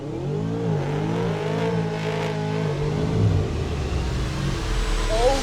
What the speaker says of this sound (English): This car is an absolute maniac. Listen to that exhaust.